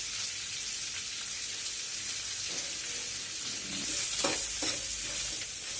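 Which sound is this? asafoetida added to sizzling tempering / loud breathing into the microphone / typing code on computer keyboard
asafoetida added to sizzling tempering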